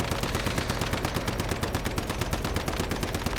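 Rapid automatic gunfire pours out nonstop in the Once Human video game while shooting the boss in the Securement Silo Theta dungeon, a loud, dense stream of evenly spaced shots with no talk over it.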